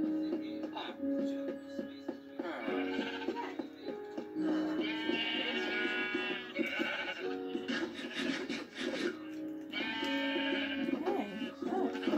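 Sheep in the Minecraft video game bleat in repeated, closely spaced calls, with a person talking over and between them throughout.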